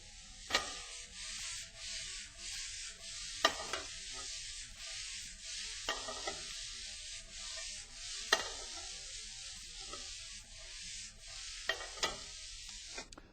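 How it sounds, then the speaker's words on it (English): Rice tossed in a pan with seared lemongrass tofu, with soft sizzling under a series of spaced, sharp scrapes and knocks as the pan is stirred. "I'm going to introduce the rice to this pan and toss it all together"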